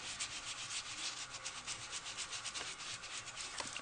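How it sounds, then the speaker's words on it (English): A sponge dauber scrapes ink across a card during stamping, giving a continuous soft rubbing and scratching sound that stays close and moderately quiet throughout. "I can actually just scrape up with my sponge dauber here, or my sponge."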